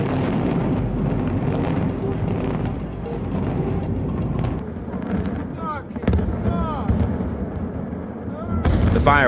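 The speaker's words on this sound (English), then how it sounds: "The fireworks factory in Malta suddenly exploded fiercely." A fireworks factory explosion in Malta: a rumbling barrage of explosions and crackling bangs rolls on continuously, with scattered whistling bursts and heavy booms building toward the end.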